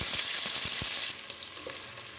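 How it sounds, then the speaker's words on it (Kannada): Sliced onions fry with fennel and spices in hot oil for kuska rice, a steady close sizzle with a few stirring scrapes, growing quieter partway through. "ಈರುಳ್ಳಿ ಚೆನ್ನಾಗಿ ಫ್ರೈ ಆಗಿದೆ."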